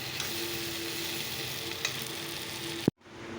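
Drumstick and potato curry sizzling in a pan, a steady crackling fry close by with a couple of small stirring clicks, ending in a sharp clack before a sudden drop to quiet.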